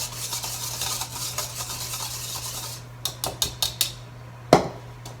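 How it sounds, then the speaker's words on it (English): Whisking dry bran muffin ingredients in a bowl, a continuous scratchy rasping that ends in a few sharp taps of the whisk against the bowl's rim and one louder knock. "You want to make sure you give it a good whisk to get everything all mixed together"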